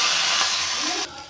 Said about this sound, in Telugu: జీలకర్ర, ఆవాలు, ఎండుమిర్చి పోపు వేసుకొని కొంచెం ఇంగువ అయితే యాడ్ చేసుకుంటున్నాను